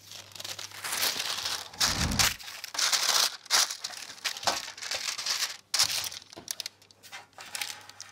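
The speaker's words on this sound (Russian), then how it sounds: "Я его также застилаю бумагой." Baking paper is spread over a second baking tray for cottage cheese and cheese vatrushki, giving sustained loud crinkling and rustling with a few sharper crumples, close up and with no talk.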